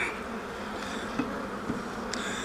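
Honey bees buzz steadily in an open hive during an inspection of a colony that has already swarmed and left queen cells, a close, even hum with a few faint clicks.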